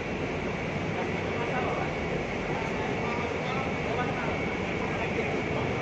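A train rolls through Serawat station without stopping, a steady broadband rumble and rush holding at constant loudness throughout, with voices faintly underneath.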